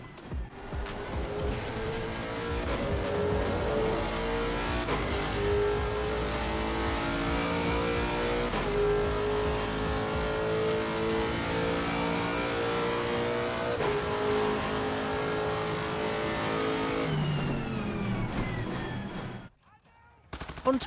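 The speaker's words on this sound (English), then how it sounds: "Enjoy some Lexus RCF noises." A Lexus RC F in a racing video game, its engine revving loud and steady with shifting tones and sharp bursts, running almost continuously before cutting out briefly near the end.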